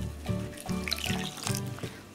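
Water poured into semolina for rava idli batter, a soft steady trickle and splash running near and continuous without talk.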